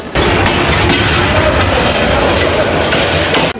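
Parabat Express passenger train leaving a station, a loud continuous close roar of rolling carriages and clatter that fills the whole stretch before cutting off sharply.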